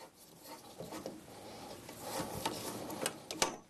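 A hand cutter being turned and tightened to make a cut, producing faint, close scraping and rasping with small scattered clicks and creaks.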